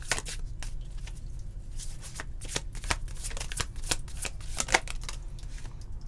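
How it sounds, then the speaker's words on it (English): Tarot cards are shuffled by hand in a quiet room, a dense run of quick, crisp riffling flutters and slaps, close and fairly soft, with no talking. "Let's get one more card for this, Spirit."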